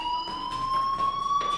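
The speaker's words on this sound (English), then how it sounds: "do you hear that fire alarm?" A fire alarm in the Life is Strange video game rings loud and steady, a sustained electronic tone with regular pulsing beats, alone without voices.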